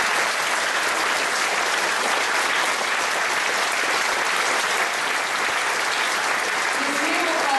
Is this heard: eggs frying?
no